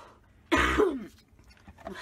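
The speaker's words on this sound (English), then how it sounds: "My wish list is I wish I could stop coughing" A single harsh cough bursts out close to the microphone, followed by a short throaty rasp as it trails off.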